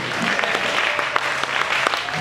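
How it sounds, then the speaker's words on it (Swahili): A church congregation claps together in worship, a dense, sustained round of applause with sharp individual claps standing out, close and loud throughout. "Kofi mingi kwa Yesu."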